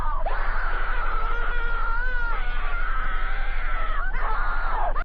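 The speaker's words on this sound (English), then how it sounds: "the gurgled cry turned into an angrish scream" Horrific gurgled screaming from a disturbing cartoon creepypasta, a loud, sustained, wavering shriek close up that bends in pitch, briefly dips around the middle, then swells again.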